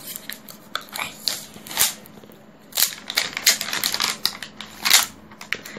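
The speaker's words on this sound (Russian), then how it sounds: "Открываем еще одну капсулу." A plastic LOL Surprise doll capsule is opened by hand, giving a series of sharp plastic cracks, snaps and crinkles at close range in irregular bursts, with no talking.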